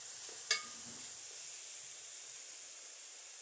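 Fish curry fries quietly in a pan with a faint, steady sizzling hiss as it is stirred, and one sharp click of a spoon near the start.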